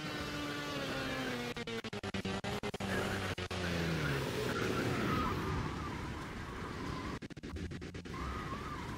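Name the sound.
RC car engines and skidding in Kerbal Space Program video game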